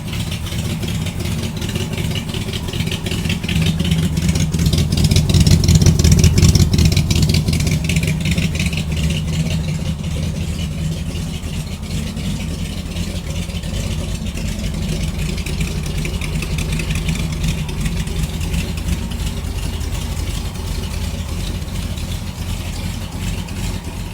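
A 1934 Ford car engine runs steadily and warms up, a loud continuous idle with a low rumble and a slight swell early on, close by with no talking.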